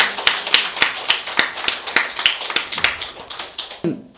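Clapping in a church rings out in a close, crisp and evenly paced rhythm of about three to four claps per second, then stops abruptly as a voice begins.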